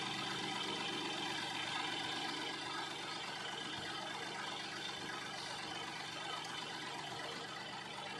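A Mahindra TUV300 with close to 1 lakh kilometres on it idles after a carbon-cleaning treatment, giving a quiet, even engine hum with a steady low drone and no speech over it.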